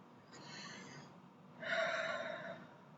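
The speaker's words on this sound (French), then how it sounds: "Prenez une grande respiration." A person takes a deep breath, with a soft intake followed by a stronger, louder rush of air, close and quiet, with no talking.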